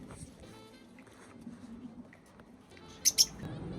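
Personata lovebirds chatter around their nest box in short, faint chirps, with two sharp, louder calls near the end over a low background murmur.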